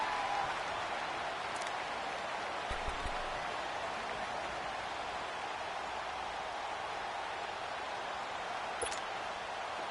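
A stadium crowd in a football video game roars in a steady, wide wash of cheering noise that holds at an even level throughout.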